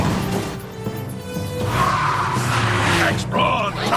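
A cartoon bullet train braking hard makes a long screeching squeal of metal over a rumbling roar, with a voice speaking over part of it.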